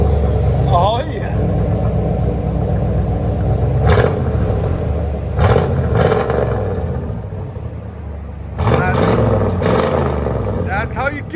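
A 1984 Chevy Impala with straight-pipe dual exhaust rumbles steadily with a raw, throaty exhaust roar, with sharp rev blips near the start and end, voices faintly beneath.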